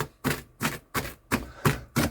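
A knife chops chicken stir-fry ingredients into small pieces on a cutting board, six steady, evenly paced thuds heard up close and alone.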